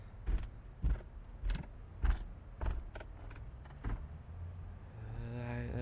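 Ambient creaking in the horror game ALONE? comes as a series of hollow, woody creaks or thuds at a fairly regular step-like pace. A low mechanical hum swells near the end.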